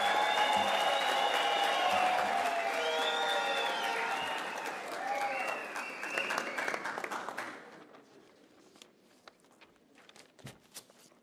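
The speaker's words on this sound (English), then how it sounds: "give me a round of applause" A large audience at a University of South Africa autumn graduation ceremony claps loudly and steadily, then the applause thins out and fades to scattered claps and hall noise.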